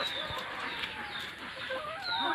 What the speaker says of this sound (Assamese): এইখন হ'ল ৰেয়াৰ মুৰ্গী ফাৰ্ম কৰি আছে ইয়াত